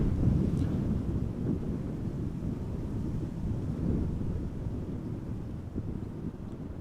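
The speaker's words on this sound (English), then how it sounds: "Quite strong wind actually." Strong gusty wind buffeting the microphone outdoors at Amsterdam Schiphol Airport, a steady low rumble with slow surges that runs unbroken for the whole stretch, with no talking.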